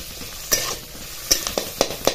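Onion fries in a pan for a Marathi amti while a spoon stirs it. Several sharp scraping knocks land over a soft, continuous sizzle.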